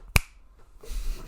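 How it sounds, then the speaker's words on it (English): One sharp, loud finger snap cracks out near the start, followed by soft rustling and low handling noise. "Football Saddos clicking."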